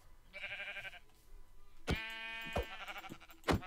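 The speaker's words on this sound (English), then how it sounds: "You are a black sheep." A black sheep in Minecraft bleats in short, wavering cries, several in a row, with a few sharp clicks and thumps between them.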